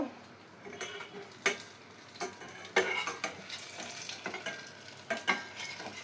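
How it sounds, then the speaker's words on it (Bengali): Vada fritters fry in a pan of oil while being stirred. A continuous close sizzle is punctuated by repeated scraping and clinking of a spatula against the pan, and no one speaks. "ভালোই ভাজা হয়েছে বড়া"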